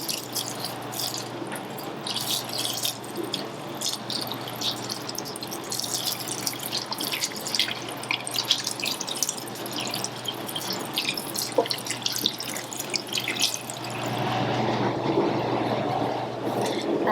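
Water is poured onto a potted philodendron billietiae, giving a steady soft trickle with dense small drips and splashes into the soil and pot, close and continuous, a little fuller toward the end.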